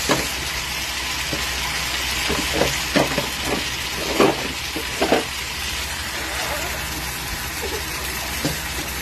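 Crabs frying in a pan with buttered garlic and blended tomato sauce, giving a continuous sizzle with occasional clinks and stirring knocks, no speech.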